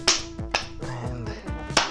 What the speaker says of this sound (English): I am going to clap.